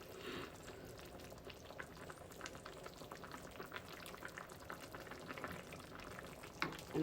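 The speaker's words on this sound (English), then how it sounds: "you can hear the bubbling starting to slow down some" Beef stew bubbles gently in a pot on the stove top, a faint, soft, continuous simmer with scattered small pops.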